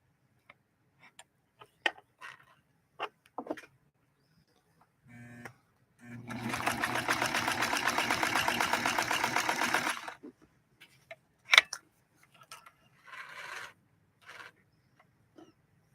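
A Necchi Lelia 512 sewing machine runs steadily for about four seconds laying down a zigzag stitch, framed by scattered clicks and ticks from handling the machine before and after.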